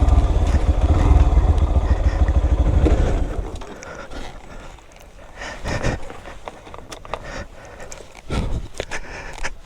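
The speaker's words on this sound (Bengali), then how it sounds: "আচ্ছা, বাইক পার্কিংটা করে নেই আগে" A motorcycle rumbles loudly nearby for about three seconds, then its engine falls away as it is parked, followed by scattered footsteps, scrapes and clatter on a trail outing.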